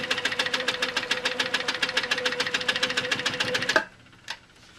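A sewing machine stitches quilt block corners at a fast, even rhythm of close mechanical clicks, then stops abruptly, followed by one brief knock.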